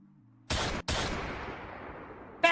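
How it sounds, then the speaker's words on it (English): Two loud, close gunshot blasts from a video game, the first cut off sharply and the second trailing into a long decaying echo, with a brief sharp noise at the end. "That's not brain powers, that's just a gun."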